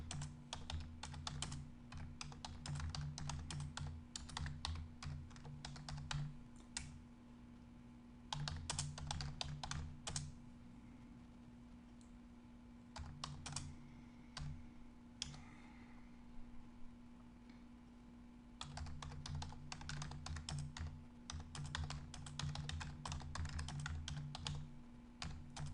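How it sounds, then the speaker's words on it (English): Rapid clattering keystrokes on a computer keyboard, coming in dense bursts separated by short pauses, close and fairly quiet over a steady low electrical hum. "Now I'm typing a lot"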